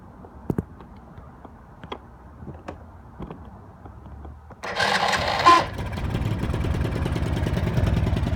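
A Chinese ATV engine with the choke on starts after a few faint clicks, then settles into a steady, loud rumbling idle that runs to the end without talk.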